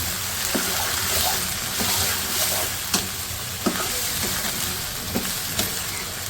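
Chunks of kaleji (liver) masala sizzle steadily in hot oil with cubed tomato, close up, while a spoon stirs and scrapes the pan in regular knocks every second or so.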